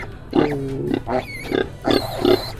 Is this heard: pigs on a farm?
yes